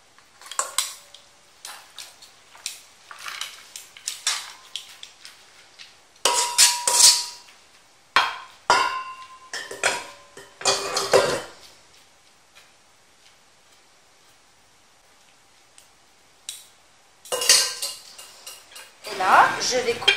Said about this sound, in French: je mélange la salade qu'elle a marinée correctement